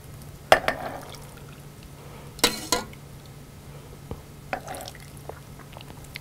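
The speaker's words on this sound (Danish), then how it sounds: "Og så øser jeg ellers lagen her henover." Spiced pickling brine ladled over beetroots in a kitchen, with a few sharp clinks of the ladle against the pot and brief splashy pours separated by pauses, close and fairly quiet.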